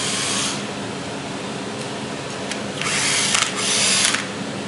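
A power drill whirs at close range, steady and bright, low on battery, rising in two short bursts near the end as it bites into plastic.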